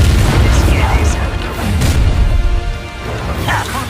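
The Bombarda blasting spell in Hogwarts Legacy goes off in a series of deep, booming explosions with crashing debris and whooshes, under voiced combat dialogue.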